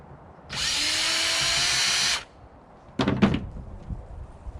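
Power drill whirs steadily for about a second and a half while backing screws out of an all-in-one computer screen, followed by a couple of sharp knocking clatters of parts being handled.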